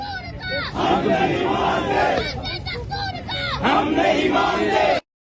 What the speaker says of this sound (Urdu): جی اس ٹائم آپ دیکھ سکتے ہیں چھوٹے چھوٹے جو بچے ہیں وہ نعرے لگوا رہے ہیں